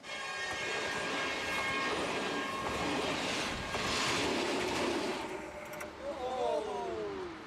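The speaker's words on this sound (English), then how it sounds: "The Qinghai-Tibet Railroad is running a test rail car." A Qinghai-Tibet Railroad test rail car rumbles steadily across a half-mile railway bridge over a river with a loud, continuous roar, and a horn sounds briefly near the end.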